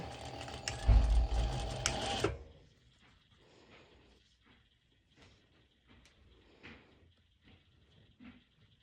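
A sewing machine running a straight stitch on fabric for a violet crop top, a loud dense mechanical whir for about two seconds, then stopping, followed by quiet handling clicks and rustles.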